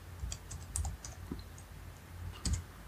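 A password is typed on a computer keyboard at a login screen. There are a handful of soft, quick key clicks in an uneven rhythm, close and quiet, with no talking.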